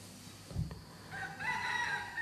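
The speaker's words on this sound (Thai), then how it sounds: "เราได้ยินเสียงมันไหม เสียงไก่ป่ากับไก่ต๊อก" Red junglefowl and guineafowl call at dawn near a forest monastery, a crowing rooster-like call rising over faint background sounds, with no one speaking.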